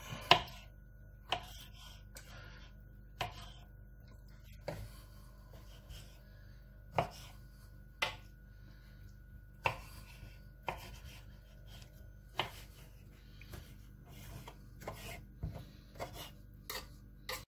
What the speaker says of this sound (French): Et on va couper grossièrement